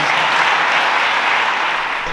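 Loud, steady applause from an audience at a motorcycle club gathering, honoring the club's board, a dense continuous wash of clapping with no break.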